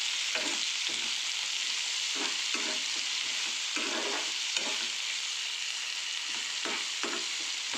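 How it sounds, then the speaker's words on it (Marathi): Green chilies fry in a pan over low heat, a steady close sizzle running throughout while a utensil stirs them in repeated soft scraping strokes, with no talking. "अगदी ह्याला ही मिरची मऊ होईपर्यंत ह्याला आपल्याला फ्राय करून घ्यायचं आहे."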